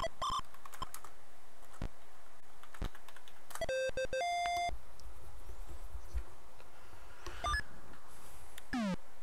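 Typing on a computer keyboard during a trivia game session, a scattered run of soft key taps mixed with several electronic beeps and tone sequences, steady background hiss, no talking.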